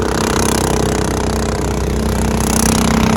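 A steady, loud boat motor drones on without a break, a low rumbling engine idling close by on a river at Mae Ping National Park, with no voices over it.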